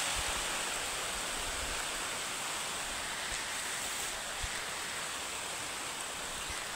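Heavy monsoon rain pouring down outdoors as a loud, dense, steady hiss with no breaks, close and enveloping, and no voices.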